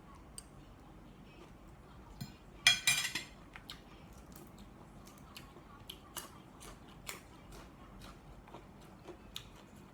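A knife slices vegetables thinly for a stir-fry, giving sharp, scattered cuts with a quick cluster of crisp clicks near the start, all quiet and close.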